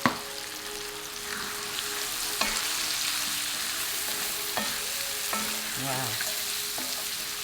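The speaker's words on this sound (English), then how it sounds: "So now we're just frying the spices and the chicken until the chicken just goes white" Spices and chicken frying in a pan, a steady sizzle running throughout with occasional clinks and scrapes of stirring, close and fairly loud, no talking.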